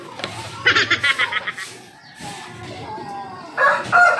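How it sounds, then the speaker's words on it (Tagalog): Hens with their chicks cluck and squawk nearby in quick bursts, with brief pauses between the calls. "naipakita na namin sa inyo yung mga sisiw namin na may dalawang inahin"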